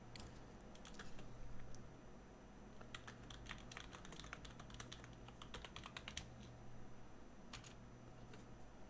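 Rapid computer keyboard typing in Call of War, irregular bursts of close, crisp key clicks over a steady low hum, continuing throughout without talk.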